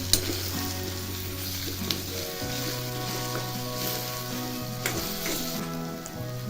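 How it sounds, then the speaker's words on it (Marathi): Chopped onions sauté in hot oil in a pan for an eggplant bharit: a steady, close sizzle and crackle with occasional stirring scrapes, alongside a faint background tune. "कांदा भरपूर घातला तर परतून घ्यायचं चांगलं"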